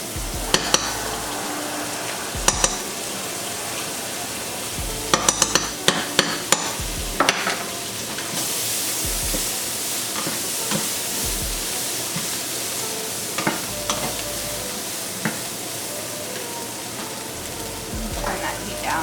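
Softened vegetables frying in butter for fried rice, a constant close sizzle with loud bursts of utensil clatter and stirring against the pan early on, then a steadier hiss.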